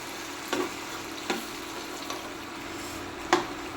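Water poured into a hot cooking pan sets off a soft, steady sizzle, with a few faint clinks of a utensil against the pan.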